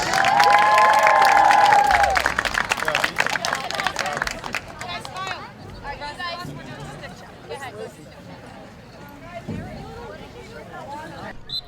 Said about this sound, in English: one more round of applause for all of our seniors